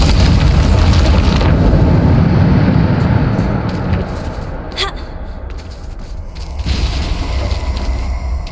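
A Bombarda blasting spell explodes in the Hogwarts Legacy video game, a loud booming blast with a long rumbling roar that slowly fades, followed by smaller debris crackles, with no talk.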